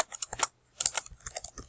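Rapid clicks of typing on a computer keyboard, irregular bursts of keystrokes with a brief gap, close and crisp.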